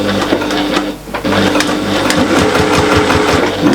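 A sewing machine stitches binding around a curved pouch, running past a zip slider. Its steady, loud, close whir breaks off briefly near the one-second mark and then carries on at an even pace.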